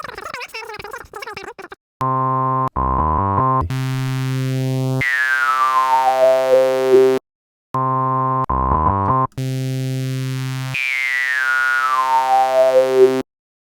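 Buzzy synthesizer tones with a filter sweeping downward, opening bright then closing dark, repeated twice with short pauses between notes.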